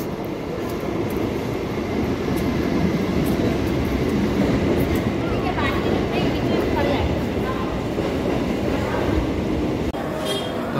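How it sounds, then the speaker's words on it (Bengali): A train at a busy railway station, heard as a steady low rumble of rolling carriages and wheel noise with faint squeals, under crowd chatter and station bustle. "আর এখান থেকে ট্রেন ধরবো, যাবো শিয়ালদা।"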